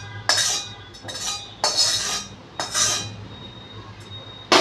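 Fried asafoetida, cumin, curry leaves and garlic tipped into a bowl of raita and stirred, giving a few short metallic clinks and scrapes of a spoon against the dish, close and fairly clear, with no talking.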